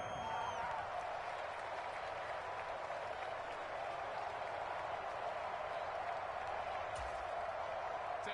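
A continuous roar of applause and cheering from a stadium crowd in a PS4 football video game, steady and fairly loud from start to finish, with no voices on top.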